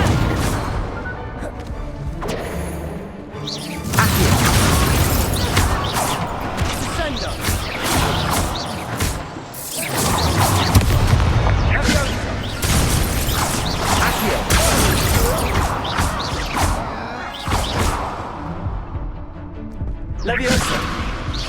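Explosive Confringo spell blasts in Hogwarts Legacy burst out in repeated booming crashes and whooshes, loud and dense, with voices talking among the hits.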